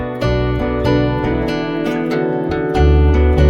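Guitar loop named At Peace from the Memento pack in the Arcade plugin, chopped into a beat sample: repeating plucked guitar phrases over a thick low bass layer, loud and close with steady rhythmic accents, no talking.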